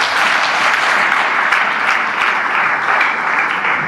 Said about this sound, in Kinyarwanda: Ndagira ngo wabere amashyi mugamira.